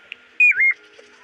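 Pet bird giving a short whistling call: a quick high note followed by a clear sliding whistle that bends down and levels off, loud and close, with no talk.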